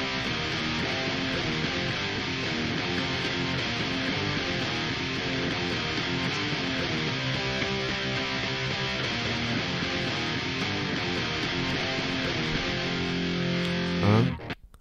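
Distorted virtual guitar power chords from the Kontakt Nirvana Power Chords Strummer play a steady, loud chugging riff that stops abruptly near the end, with no talk.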